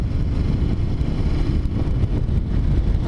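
A Harley-Davidson motorcycle with its stock exhaust, heard while riding as a steady engine drone mixed with heavy wind buffeting, moderately loud and with no talk.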